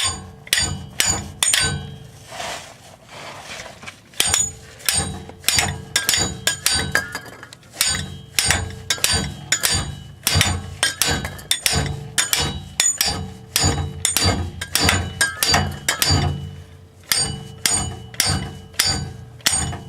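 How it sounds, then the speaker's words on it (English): Loud metallic hammer strikes on a stuck downstream oxygen sensor of a 1998 Chevy Lumina ring out in a steady, repeated rhythm, blow after blow with brief pauses, each hit sharp and clanging. "Just get yourself a hammer and just hammer the shit out of it."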